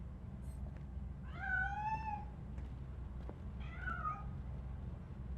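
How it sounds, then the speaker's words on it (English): A cat in the video game RoboCop: Rogue City gives two distinct meows about two seconds apart, fairly clear over a low ambient hum. "That cat must be hiding inside."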